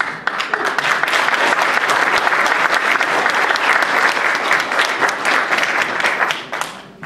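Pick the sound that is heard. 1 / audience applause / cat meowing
audience applause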